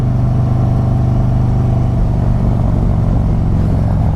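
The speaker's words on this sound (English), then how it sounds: "Let's see a second gear dump. Yep, it just roasts the tires." A Stage 2 Harley-Davidson Road Glide with a Khrome Werks Outlaw exhaust roars steadily at full throttle in second gear while its rear tire spins, a loud, constant engine drone close by with no pause.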